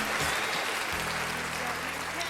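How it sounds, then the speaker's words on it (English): A burst of recorded applause played from a soundboard button on a podcast, steady clapping and cheering that fills the whole moment at moderate volume. "Let me give her another applause for that."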